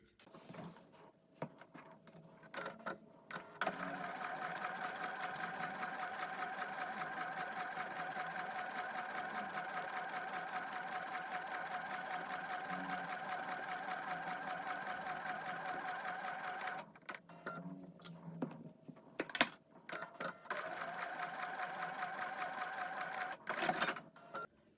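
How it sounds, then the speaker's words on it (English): A sewing machine stitches fabric in foundation paper piecing for a quilt block, running at a steady, even whir for about thirteen seconds, with brief starts and stops before and after. "take it to the sewing machine"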